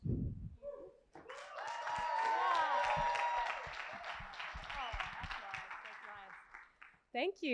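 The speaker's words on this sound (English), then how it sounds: "That's a nice round of applause" An audience at a healthtech accelerator demo day gives a round of applause, building after a brief spoken word into a steady, moderately loud crowd clapping with some vocal tones mixed in, then easing off as a voice returns.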